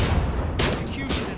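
A grenade explosion in the video game RoboCop: Rogue City gives one sudden, loud, broad blast midway through, followed by a short rumbling tail.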